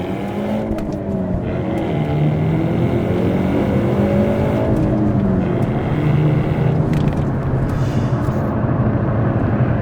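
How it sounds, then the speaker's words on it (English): A 2025 Hyundai Elantra N accelerates hard in N mode, heard from inside as a loud, continuous engine drone that climbs in pitch through the gears over steady road noise. "This gives us a chance to do a nice pull"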